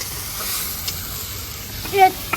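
Onions frying in a pan for paneer curry, a quiet continuous sizzle with a couple of faint stirring taps near the end.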